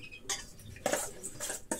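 Rusk being broken up by hand in a bowl for homemade canary food, giving faint, irregular crumbling and clinking scrapes against the bowl, close and quiet with no voices.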